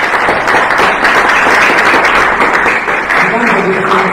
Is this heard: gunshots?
no